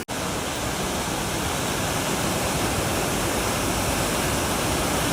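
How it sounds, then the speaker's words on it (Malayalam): A village waterfall with water pouring down in force makes a steady, dense, loud roar that fills the whole stretch without pause, heard up close with no voices. "അത്രയും ഫോഴ്സിലാണ് വെള്ളം വരുന്നത്,"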